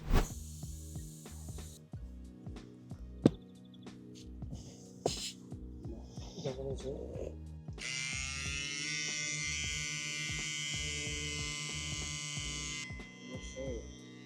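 A small portable electric air pump runs with a steady buzzing drone while trying to seat a tyre bead, starting after a stretch of clicks and handling noise, with someone talking over parts of it.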